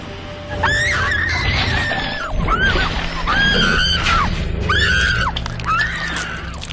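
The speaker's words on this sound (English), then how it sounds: "Granted, I had a good scream." A woman screams in a horror film, letting out several loud, shrill cries in quick succession with short breaks between them, with no talking.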